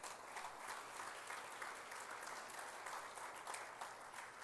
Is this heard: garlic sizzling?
no